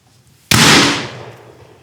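A single loud rifle shot fired on a shooting range, a sharp crack at the start with a broad blast that decays over about a second and a half, no talk.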